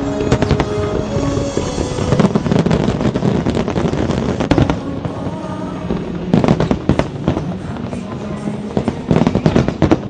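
Fireworks display over Victoria Harbour in Hong Kong, a dense continuous barrage of cracks, bangs and crackling bursts, loud and rapid throughout with no pause.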